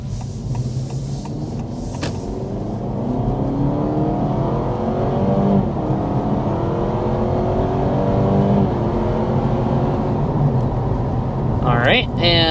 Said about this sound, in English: we need to start with a hard acceleration to show you what this hybrid is all about